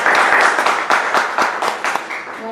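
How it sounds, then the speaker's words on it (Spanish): An audience applauds at a general medical session on HPV molecular testing: dense, rapid clapping from many hands, loud and close at first, then thinning and fading toward the end. "le demos un fuerte aplauso"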